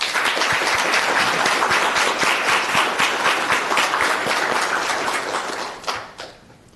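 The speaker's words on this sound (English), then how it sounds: "I want to have all the crowd give you all a round of applause." Crowd at a fire academy graduation ceremony giving a loud, sustained round of applause, dense clapping that holds steady for several seconds before dying away with a few last claps.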